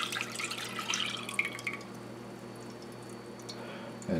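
Milk pours into a pot for Parker House rolls, a splashing, trickling stream for about two seconds before settling into a quiet, low hum.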